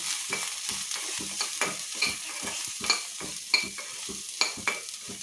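Spoon stirring and mixing sweet corn with garam masala and salt for a corn chaat, giving a series of light, close scraping and clinking strokes in a steady rhythm with no talking.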